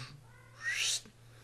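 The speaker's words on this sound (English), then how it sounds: "as my cat is meowing" A pet cat gives a single rising meow, close and fairly clear, lasting under half a second against a quiet indoor hum.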